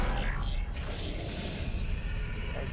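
Door opening mechanism in the Dead Space video game, a loud mechanical creak and grinding with a rushing hiss that fades into a low steady hum.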